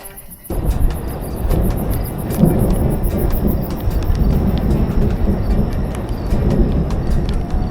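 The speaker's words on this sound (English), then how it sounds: "it's been thunder and lightning. You can hear it" Steady rain with low rumbling thunder during an outdoor storm on a long-distance bicycle ride, a broad continuous roar that begins abruptly and holds loud throughout, with no talk.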